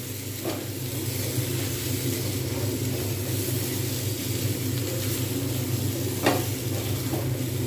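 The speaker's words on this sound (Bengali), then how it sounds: "জাস্ট আমি অল্প করে হালকা করে নাড়িয়ে নেব, বেশিক্ষণ নাড়াবো না।" Elephant foot yam curry, cooked in little oil, is gently stirred in a pan, giving a steady continuous sizzle with faint scraping and a low background hum throughout, no voices.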